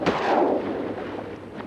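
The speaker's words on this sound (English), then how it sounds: "Got one. Good shooting, Greg." A single loud shotgun blast fired while bird hunting outdoors, close by, with a sharp crack followed by a rolling echo that fades over about a second.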